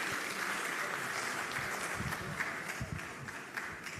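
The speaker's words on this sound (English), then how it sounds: "A round of applause for him" An audience at a retail congress at Lagos Business School applauds a faculty director, a steady moderately distant wash of many hands clapping that thins into scattered claps toward the end.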